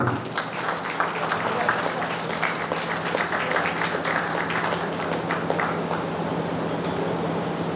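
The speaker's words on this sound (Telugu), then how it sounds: "అందరూ చప్పట్లు కొట్టాలి." Steady applause from an audience at a press club event where journalists receive free health cards, sustained and fairly loud across the whole stretch with some crowd murmur mixed in.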